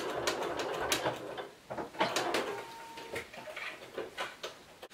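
A sewing machine quilting stitches on a giraffe quilt runs in steady, quiet mechanical bursts with a rapid ticking rhythm, pausing briefly and restarting.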